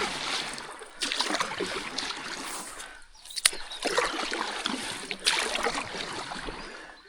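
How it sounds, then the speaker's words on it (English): A paddleboard moves up a clear river, with rhythmic paddle strokes splashing and swishing through the water at close range and a steady trickle of flowing water between strokes. "Paddling up a river like this is one of my favourite things to do on a paddleboard."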